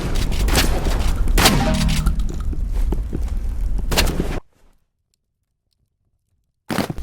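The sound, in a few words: gunfire in the video game Roblox Rivals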